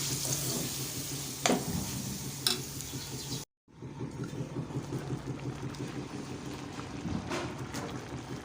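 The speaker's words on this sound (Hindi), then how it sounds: "तेल गर्म किया से मैंने इसको डाल दिया है मलाई रोटी को और इसको हाई फ्लेम पे कुक करेंगे" Malai roti frying in hot oil over a high flame, a steady crackling sizzle that runs throughout apart from a brief dropout, with a couple of sharper spatters and no talk.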